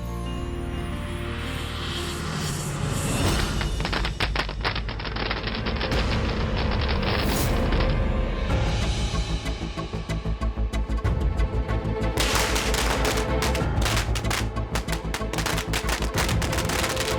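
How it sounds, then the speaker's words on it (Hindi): Street wedding celebration with dhol drums pounding and firecrackers crackling in dense, continuous rapid bursts, loud and busy throughout, with no speech. "ये ढोल पटाखों की आवाज कहाँ से आ रही है?"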